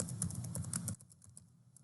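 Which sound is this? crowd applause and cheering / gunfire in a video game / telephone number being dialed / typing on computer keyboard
typing on computer keyboard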